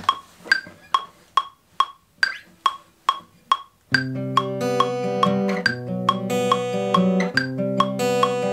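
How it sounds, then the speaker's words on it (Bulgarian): A metronome clicks steadily at 140 BPM, sharp evenly spaced ticks heard alone for about four seconds, then continuing under a layered electronic beat with sustained synth and bass tones. "Ще пусна метронома на 140 BPM,"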